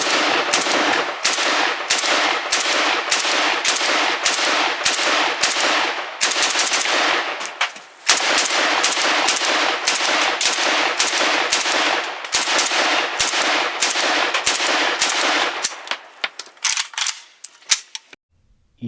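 Hungarian AK47 rifle firing outdoors: long rapid strings of loud, sharp shots at close range, continuous for about fifteen seconds, then thinning to a few scattered final shots.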